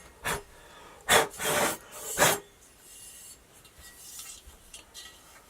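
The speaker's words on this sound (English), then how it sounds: "I'm gonna use my sanding beam that I use for Gibson Les Pauls and Explorers" Three brief rasping strokes of a sanding beam leveling the metal frets of a Charvel guitar, close by, followed by quiet background noise.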